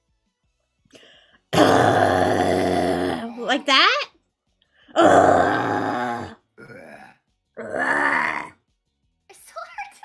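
A voice imitates an extended, guttural throat clearing that sounds like belching, in several long rasping bursts with short gaps, close to the microphone and loud.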